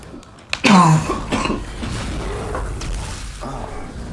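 A single sharp cough bursts out near the mic, followed by lower background noise and faint talk.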